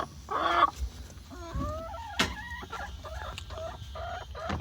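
Hens cluck near nesting boxes on a Central Texas homestead, with a loud burst of clucking early, a sharp squawk midway, and a string of rising, tonal calls following close by.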